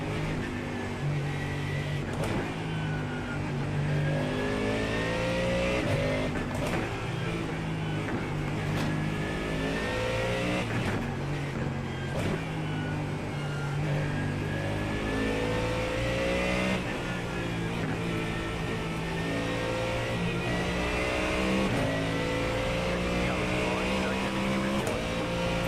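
A Mustang race car engine in the iRacing sim roars steadily at close range, rising and falling through revs and gear changes over the whole stretch, with someone talking over it at times.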